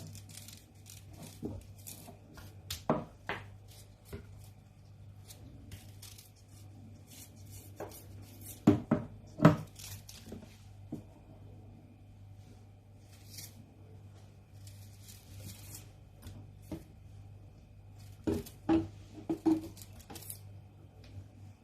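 Ginger, garlic and onion being peeled and sliced by hand, heard as sparse, faint knife taps and scraping against a board over a steady low hum, with no talking.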